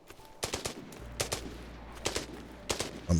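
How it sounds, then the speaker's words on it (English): Short bursts of rapid video game gunfire crackle in clusters, separated by brief gaps, over a low steady hum, ending with a heavier thump. "I'm only hearing one set of gunfire"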